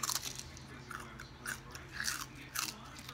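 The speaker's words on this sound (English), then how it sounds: "I love the crunch of the tail." Crunchy bites into a fried fish tail, several sharp crackling crunches spaced across a few seconds, close and fairly quiet with chewing between them.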